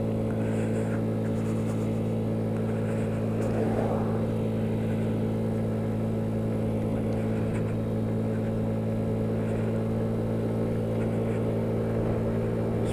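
A Honda Ruckus scooter engine held at full throttle climbing a steep mountain road in Alaska, a steady loud drone with strong low harmonics and wind rush, continuous and close with no pauses.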